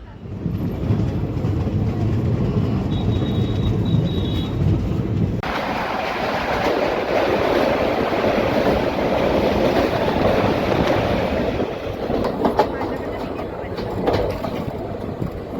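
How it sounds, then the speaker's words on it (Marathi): Steady rumble of the Koyna Express passenger train rolling along the rails after leaving Sangli station, with a continuous roar and rattling clatter throughout, loud and close. "सांगली रेल्वे स्टेशनवरून आपली ट्रेन निघालेली आहे"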